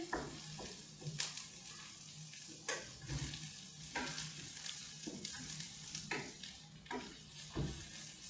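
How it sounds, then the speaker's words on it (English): Cauliflower sizzles steadily in a hot pan, a close and fairly quiet frying hiss broken by repeated scraping stirs, with no talking. "Okay, so the cauliflower is going in."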